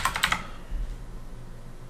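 A few quick keystrokes on a computer keyboard as a password is entered, a brief cluster of close clicks followed by a faint hum.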